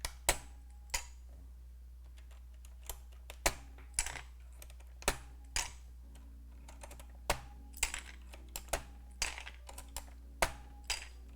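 ALPS keycaps pried off a keyboard while harvesting its switches give sharp, irregular plastic clicks and snaps, over a dozen quiet separate pops spread across a low steady hum.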